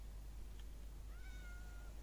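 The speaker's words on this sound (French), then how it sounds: "il miaule, pauvre doudou." A cat shut in an enclosure in the Minecraft video game gives one drawn-out meow over a steady low hum.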